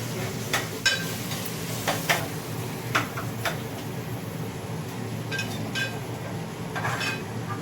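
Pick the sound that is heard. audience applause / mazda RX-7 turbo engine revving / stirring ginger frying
stirring ginger frying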